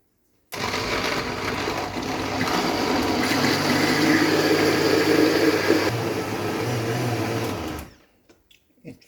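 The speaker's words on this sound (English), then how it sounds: "the first thing I'll be blending is the okra" A kitchen blender whirs through okra for Jamaican okra punch, a loud steady motor roar that starts abruptly, shifts pitch slightly midway, then cuts off, leaving a few faint clinks.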